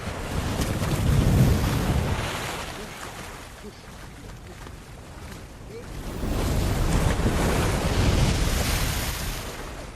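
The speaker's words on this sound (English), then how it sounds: "Every wave that you hear in that 45 minutes or so is individually designed." Designed ocean waves for a film soundtrack roll and crash in two big swells, a loud surge of surf and wind-like rush that fades between breakers.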